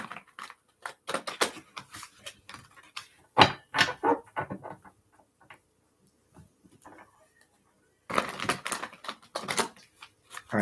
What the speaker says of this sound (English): All right, that was a strange shuffle.